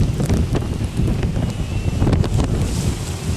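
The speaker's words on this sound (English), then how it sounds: "We have a large storm." Strong gusting storm wind in Sarasota, Florida, buffets and roars continuously, close and loud, with turbulent rumbling and occasional sharp flaps.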